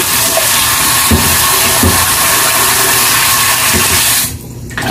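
Water runs and splashes steadily over pechay (bok choy) leaves being soaked in a basin for fish tinola, a loud continuous wash that cuts off abruptly near the end.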